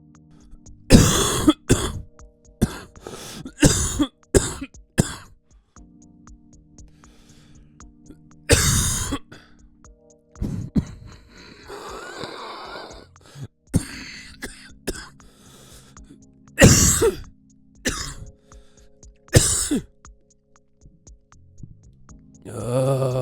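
Repeated harsh coughs and throat clearing from a person with the flu, in short bursts, some isolated and some clustered, close and fairly loud with quiet gaps between.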